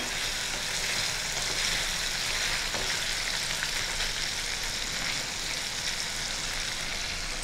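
Store-bought cream paneer pieces fry in a pan with a steady, even sizzle and crackle that continues unbroken throughout, with no voices over it.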